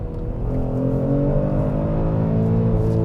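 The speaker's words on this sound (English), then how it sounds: "I'm just going to give it one last flooring, except I'm going to use the paddles to get into the right gear" A 2021 Kia Stinger GT under full throttle, held in gear with the paddles and traction control off: a loud, steady engine drone close by whose pitch climbs smoothly, with no voices.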